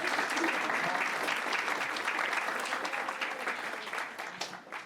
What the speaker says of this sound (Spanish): agradecer con un aplauso